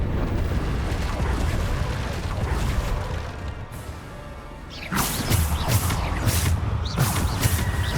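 Bombarda explosion spell in the Hogwarts Legacy video game: a sudden loud blast around the middle, followed by repeated crashing impacts amid ongoing game combat noise.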